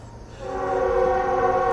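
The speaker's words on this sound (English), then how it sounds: "and there goes the train" A train passes near a cemetery at Moon Creek, its steady rumble joined by a loud, sustained horn that swells in and holds on without any talk over it.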